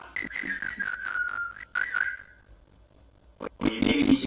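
A pet bird whistles up close in a few short, clear tonal phrases that slide downward, then goes quiet before a burst of rustling and noise at the end.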